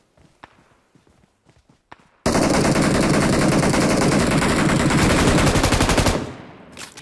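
Automatic rifle fire in the mobile battle royale BGMI / PUBG Mobile, heard after a few soft footsteps: one loud, unbroken burst of rapid shots lasting about four seconds, close and dominant, then quickly fading.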